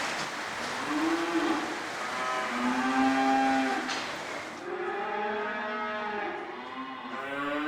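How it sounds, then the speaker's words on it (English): Several cattle moo repeatedly in long, drawn-out calls inside a cattle house, fairly close, over a steady wash of heavy rain on a tin roof. "the cattle must be hungry today"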